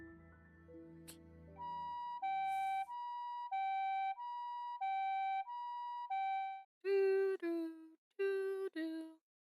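A two-tone ambulance siren in the video game Variable Barricade alternates high and low in a steady rhythm, then breaks into shorter, brighter wails, loud and clear after a softer musical opening.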